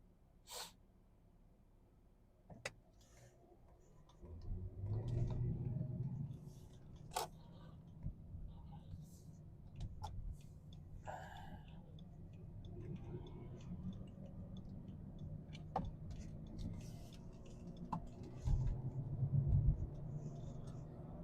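A BMW 5 Series car, not an M model and on softer suspension, drives around a roundabout. A low engine rumble swells and settles with scattered clicks and ticks inside the cabin, moderately loud, with no talk.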